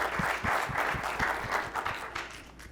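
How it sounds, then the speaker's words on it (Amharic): Children clap together in a TV studio, a steady patter of many hands with a loose rhythmic beat running the whole time at moderate loudness. "አጨብጭቡላችሁ በደንብ"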